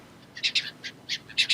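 Several short, bright seagull calls from the video game Stranded Deep ring out in quick uneven bursts, clear and fairly close, over a quiet background.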